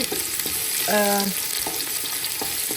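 Rice grains with ghee and chopped onion fry in a pot, making a close crackling sizzle with scraping stirs and one short metallic ring from the utensil; no voices.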